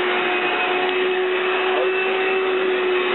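A Kirby vacuum cleaner runs steadily with a loud, constant whirring drone and a strong steady motor hum, with no voices over it.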